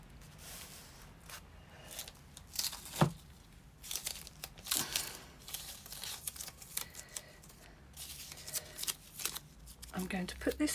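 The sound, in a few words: handling a piece of tape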